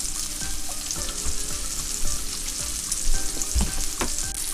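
Sausage fries in a pan for a big steak-and-eggs breakfast, a close, steady crackling sizzle with scattered pops and light utensil knocks.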